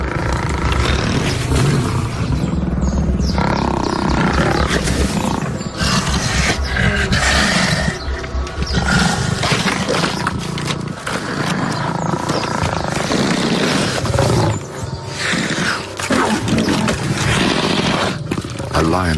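Wild lions roar and snarl while fighting over an antelope kill, a loud continuous chaotic brawl of growls and roars with scuffling throughout, under a narrator's voice.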